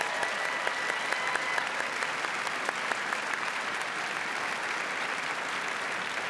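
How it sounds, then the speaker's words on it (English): Sustained applause from the audience at the 2019 Wisconsin governor's inauguration ceremony, a steady dense wash of clapping that holds at an even level throughout with no talk over it. "Let's give them another round of applause."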